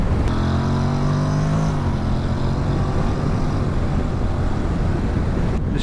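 A 2022 Honda NC750X DCT motorcycle engine drones steadily while riding in sports mode, its low hum mixed with heavy wind rush throughout, with a slight pitch change early on.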